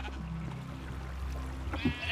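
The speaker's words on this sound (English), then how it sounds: "Punching sheep with a ring." Sheep in the Minecraft Tekkit video game give a short, faint bleat near the end. Before it comes a soft, steady game background, with no talking.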